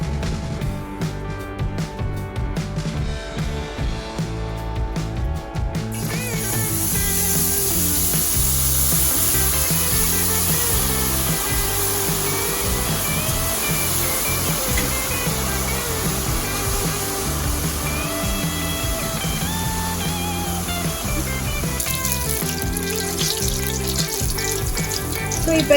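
Boondi batter drops into hot oil and fries with a loud, steady sizzle and crackle that swells after the first few seconds and carries on without pause.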